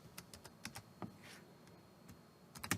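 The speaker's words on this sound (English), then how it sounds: "delete that and type in the dollar amount that you're going to give." Keys on a computer keyboard click in short irregular bursts as a dollar amount is typed in, close and fairly quiet with brief pauses between taps.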